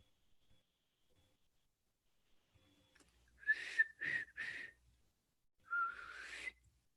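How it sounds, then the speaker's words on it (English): A person whistles a short tune alone, several brief bright phrases around 3.5 to 4.7 seconds followed by a longer sustained phrase near the end, moderately loud and close, with no talking over it. "Do you whistle?"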